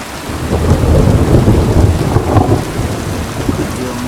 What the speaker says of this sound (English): A real mood-setting crack of thunder